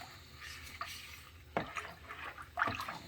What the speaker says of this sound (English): I'm gonna mix it in very, very well to combine all my ingredients together